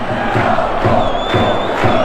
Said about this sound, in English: crowd mad.